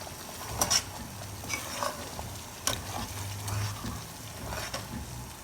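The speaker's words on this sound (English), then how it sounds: "Let it sizzle properly." Steady frying sizzle of devil curry in a pot with soft crackles and occasional clinks of a utensil against the pot, close by, with no voices.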